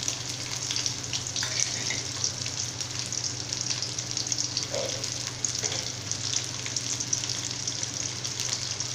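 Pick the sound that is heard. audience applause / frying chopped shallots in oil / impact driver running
frying chopped shallots in oil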